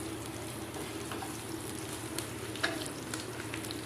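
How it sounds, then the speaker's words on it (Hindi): Ginger slices frying lightly in hot oil for a Lucknowi mash daal tempering make a soft, even sizzle with small crackles and one sharper pop near the end, heard alone at low level. "थोड़े से हम अदरक के स्लाइसेस भी इसमें ऐड कर देंगे और इसको हल्का सा फ्राई कर लेंगे"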